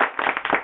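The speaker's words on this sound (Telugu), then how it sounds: "అంత గట్టిగా చప్పట్లు" A short burst of loud hand clapping from a group in a Christian music college class, a few quick uneven claps close by, then it cuts off.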